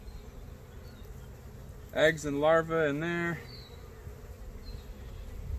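Honey bees in an opened hive during an inspection give off a steady low buzz, while someone talks close by over the hum through the middle of the clip.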